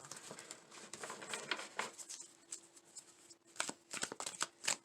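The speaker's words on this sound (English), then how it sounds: "I'm going to pull a Wisdom of the Oracle" Oracle cards shuffled by hand, soft rapid papery riffling and patter in quiet close bursts, with a faint steady tone behind.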